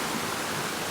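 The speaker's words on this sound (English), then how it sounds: "This little cascadey waterfall." A small cascading waterfall, about a 1.5 metre drop, spills into a cool pool, giving a steady, close, broadband rush of water with no other sounds.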